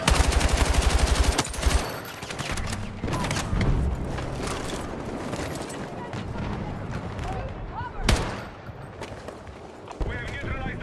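Automatic gunfire in Battlefield 6 rattles in fast bursts near the start with harsh, rough recoil, then scattered shots and battle noise continue under a busy in-game mix, with a sharp loud report around the middle.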